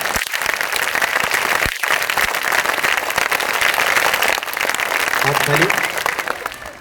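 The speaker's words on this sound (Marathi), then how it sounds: "एक जोरदार हात उंचावून टाळ्या झाल्या पाहिजे आपल्याला" A large audience claps steadily and loudly at a Marathi film promotion event held by a school education society, the applause sustained throughout while a voice cuts in briefly over it.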